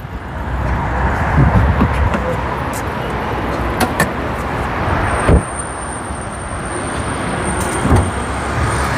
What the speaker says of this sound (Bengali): গাড়ি কিন্তু স্টার্ট আছে ভাইয়া, একদম স্মুথ সাউন্ড।